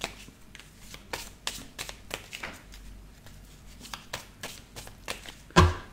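A small deck of oracle cards, stiff and hard to mix, is shuffled by hand. Close, papery riffles and slaps repeat steadily, ending in a sharper knock.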